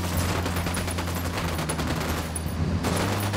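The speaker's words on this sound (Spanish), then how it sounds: "Disparando." Sustained rapid gunfire in the open-world shooter Ghost Recon Wildlands, a loud continuous fusillade of overlapping automatic shots filling the whole moment without pause.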